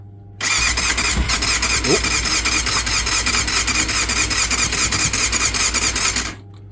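A Kawasaki 600 Thundercat motorcycle, after a carburettor rebuild, cranks on its starter for about six seconds without firing: a loud, steady whirring drone with a squealing edge that stops abruptly, with no talking.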